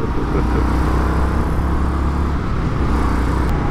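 Indian FTR 1200 S Race Replica motorcycle ridden on the road, a steady loud engine drone with heavy wind rush that holds even throughout, no voices.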